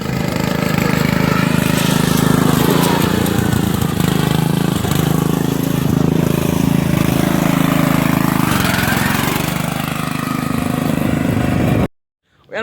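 A racing lawn mower's small engine runs continuously after being cranked, a steady loud buzzing drone with slight fluctuations throughout, close by, cutting out abruptly near the end.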